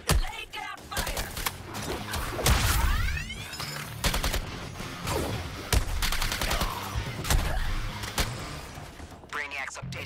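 Gunfire erupts during a fight in Suicide Squad: Kill the Justice League. Loud, repeated bursts of shots and rapid volleys crackle together, with occasional whooshes and thuds, for several seconds.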